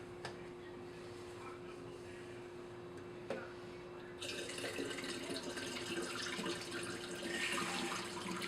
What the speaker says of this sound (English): I'm going to pour my fixer out into